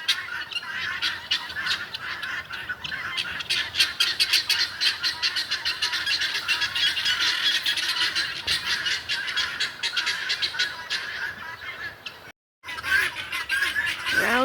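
A flock of guinea fowl at a campsite in Franklin, North Carolina, squawking and chattering without pause, loud and close, with a dense rapid rhythm of calls and one brief drop-out near the end.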